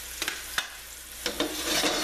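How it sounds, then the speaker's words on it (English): Meat sizzles steadily in a hot pan over a moderate to high flame, with a few light clicks and scrapes of a utensil against the pan. "you hear that sizzling, so you know you're hot enough"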